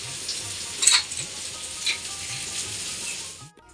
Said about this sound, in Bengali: মিষ্টি কুমড়া ভাজা বসিয়েছি।